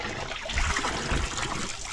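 Spring water gushing out under good pressure from an outlet in Stary Krym, Crimea, a steady close splashing and trickling stream with no talk over it.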